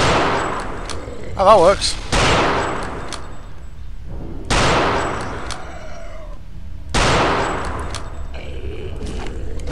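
Rifle gunfire from the Return to Castle Wolfenstein video game: a few sharp, loud shots spaced a couple of seconds apart, each with a short decaying tail, while someone briefly speaks.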